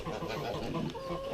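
Blue Orpington hens clucking softly in a poultry yard early in the morning, a brief, quiet patch of low chatter from nearby birds.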